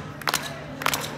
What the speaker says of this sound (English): Everybody clap along with the guy with knives.